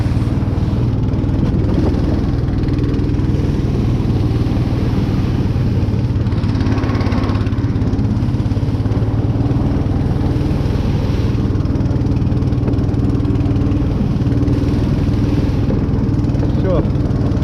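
A motorized tow sled (Uragan) engine drives through melting-snow taiga brush, a steady loud low drone running throughout, with people talking over it.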